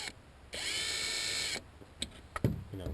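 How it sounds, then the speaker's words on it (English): A power drill grinds down plastic during a DIY radiator replacement on a Hyundai, giving one roughly one-second whirring burst, followed by scattered clicks and handling knocks. "Decided to use my power drill to grind the plastic down a little bit"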